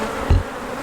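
Honeybees buzz briefly and fairly close during a hive inspection, a short swell of buzzing over a low steady background with no talking.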